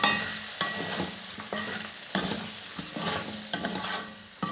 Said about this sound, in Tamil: இப்போ இதையும் சேர்த்து நல்லா வதக்கி விட்டுருங்க.